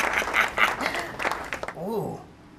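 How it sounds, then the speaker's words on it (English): Theater audience applause rising as a brief clapping burst, with voices talking over much of it. "Hear that applause."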